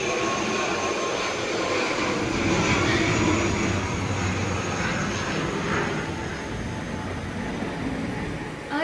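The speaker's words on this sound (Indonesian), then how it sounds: "ada suara pesawat dulu guys," An airplane passes overhead with a loud, steady jet-engine roar that swells and then slowly fades, heard with no talk over it.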